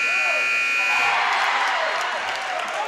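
A loud, sustained electronic horn blares over an indoor crowd at a girls' varsity basketball game between Hicksville and Edgerton, a steady tone holding for nearly three seconds.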